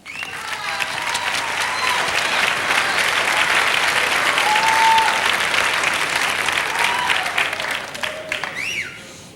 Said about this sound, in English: give a big round of applause to Annette Blondeau